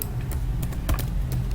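Someone types CSS code on a computer keyboard, producing a quick, irregular run of sharp key clicks up close, with no voice.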